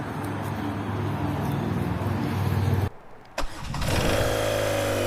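A BMW R12 nineT motorcycle engine starts up close: a short starter crank and brief dip, then the engine catches and settles into a strong, steady idle rumble, with no talk.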